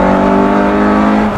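Lotus S1 with a Honda K20a engine on a narrow farm road, a loud close engine drone with strong steady harmonics as the driver downshifts with heel and toe, the note shifting briefly near the end.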